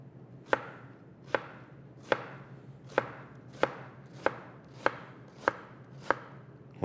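A knife cuts down through an onion onto a cutting board in about ten crisp, evenly spaced chops, close and clear against a quiet background with no speech.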